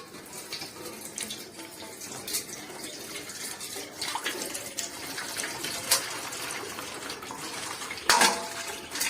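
Waste water drains from a Samsung 7 kg washing machine that is being serviced, splashing and trickling steadily throughout. A few sharp clinks and knocks stand out over the flow.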